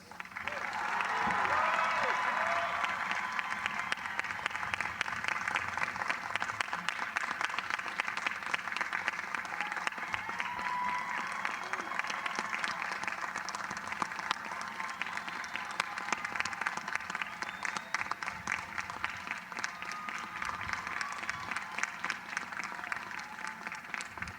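Sustained applause from a large commencement crowd at the University of Delaware fills the whole stretch, dense and steady clapping with a few faint voices mixed in.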